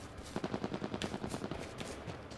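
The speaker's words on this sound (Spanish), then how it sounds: "¿Dónde hay tiros? Por aquí es." Rapid automatic gunfire in the PS4 beta of the video game H1Z1, a fast burst of sharp repeated shots rattling steadily for about two seconds, fairly loud with no talk over it.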